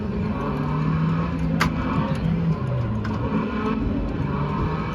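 Car engine sounds from a driving simulator at an auto show, steady revving and shifting engine tones that rise and fall in pitch, loud and continuous with no talk.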